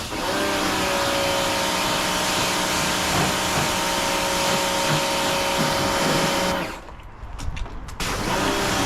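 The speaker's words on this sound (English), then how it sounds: "So next job is just to rinse the car off, because that's obviously covered in debris from the engine bay" A pressure washer runs loud and steady close by while rinsing engine-bay debris off a car, its continuous hissing roar briefly dropping out near the end before picking up again.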